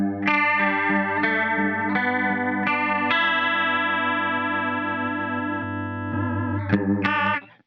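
Boss CE-2 chorus pedal on a Les Paul guitar, bridge pickup: strummed chords ring out with a lush, slightly warbly modulated shimmer, loud and continuous, ending with a few quick plucked notes.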